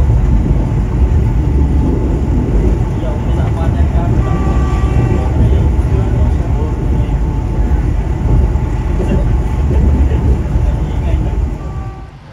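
Loud, continuous rumbling and clattering of the Logawa passenger train moving along the rails near a junction toward Mojokerto and Jombang, steady throughout and fading slightly at the end.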